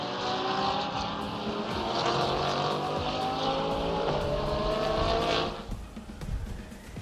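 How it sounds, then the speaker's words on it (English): A Ferrari GT race car at Sepang International Circuit howls loudly down the hill into a corner, its engine holding a high, steady scream before backing off sharply near the end as it passes. "Here the Ferrari coming down the hill on this corner"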